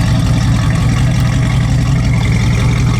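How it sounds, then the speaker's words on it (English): Exhaust of a 1966 Ford Mustang coupe with chrome tips, a steady deep idle rumble close by and loud, running evenly without talk. "It's got chrome tips on the exhaust. The exhaust sounds good."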